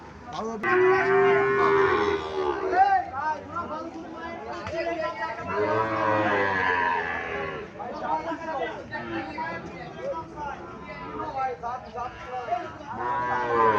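A Sahiwal bull calf moos repeatedly at close range in a cattle market at Chandimura, Cumilla, with long drawn-out calls rising over a steady background of people chattering.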